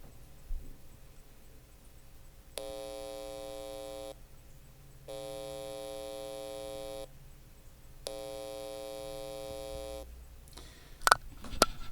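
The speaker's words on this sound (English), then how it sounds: "what you're hearing there is actually the buzz of the alternating current going back and forth and back and forth" Alternating current through speaker wire makes a harsh, even electrical buzz, heard as three separate sustained bursts of a second or two each, separated by quiet gaps with faint background hum.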